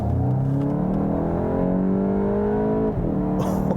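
Loud, close engine of a 2022 Volkswagen GTI hot hatch with the dual clutch gearbox, pulling hard in a smooth rising drone on a warm-up track lap, with a brief shift dip near the end.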